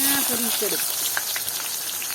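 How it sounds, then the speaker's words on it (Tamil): Chopped big onions sizzling as they go into hot oil in a village kitchen in Jaffna, a steady loud hiss and crackle with a voice speaking briefly at the start. "இனி வெட்டி வச்ச பெரிய வெங்காயத்தை போட்டு"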